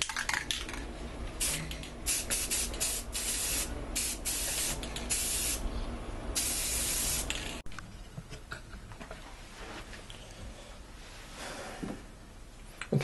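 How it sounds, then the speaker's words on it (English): A silver spray paint can hisses in long continuous bursts with brief gaps, close and loud, then quieter rustling and small handling clicks. "We're going to take our silver spray paint."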